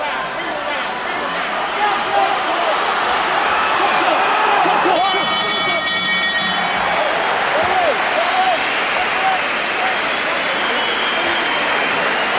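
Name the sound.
boxing crowd cheering and shouting a boxer's name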